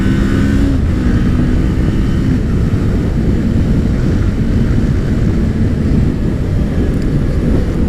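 2018 Kawasaki Ninja 400 ABS engine pulling hard while overtaking on a country road, a loud, rising buzz with a brief pitch shift early, then sustained engine roar heavily mixed with wind rush.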